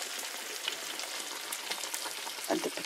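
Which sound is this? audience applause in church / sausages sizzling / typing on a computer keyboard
sausages sizzling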